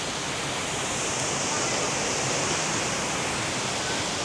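A jungle waterfall where people are bathing roars continuously nearby, a dense, even rush of falling water that fills the whole scene without pause.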